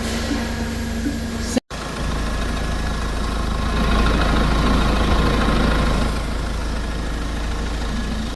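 A Mahindra Scorpio-N idling with an abnormal noise from the steering, heard close and steady with a low engine drone, broken by a momentary cut-out near the start.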